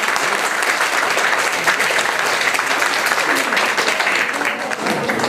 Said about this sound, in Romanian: Vă rog să vă înarmați cu aplauze.